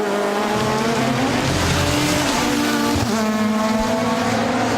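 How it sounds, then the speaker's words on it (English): Turbo diesel SEAT touring cars race past at Monza and hit the rumble strips, with loud, close engine roars and shifting revs that rise and fall as the cars pass, over a continuous rumbling drone. "The rumble of the rumble strips and the thunder of the diesel engines as they go past"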